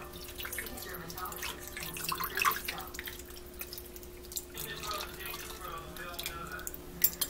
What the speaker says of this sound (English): he's just going to pour the beef broth and the Mrs. Dash